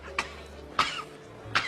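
A person imitates a dry cough in three short, evenly spaced bursts, fairly faint against a quiet room.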